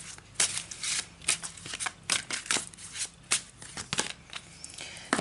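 Tarot cards are shuffled up close in a quiet room, a rapid run of papery riffles and flicks in uneven bursts, with no talking.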